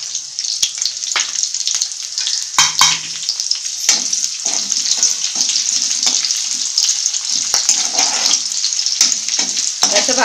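Green chillies fry with salt in a hot pan, a loud continuous sizzle broken by sharp spatula scrapes and clicks at irregular intervals.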